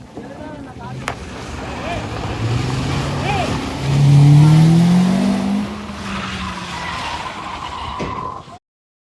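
A car driven recklessly skids with a rising tire squeal, its engine revving and roaring loudly up close, the squeal peaking midway before fading, with a voice heard faintly underneath.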